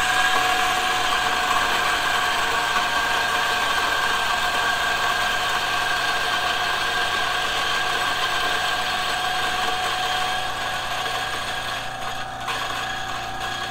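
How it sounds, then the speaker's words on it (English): Turin DF64 coffee grinder grinding espresso beans, a loud continuous motor whine with a dense gritty crunching texture, steady and close throughout, easing slightly near the end. "I'm gonna grind it without using the bellows first."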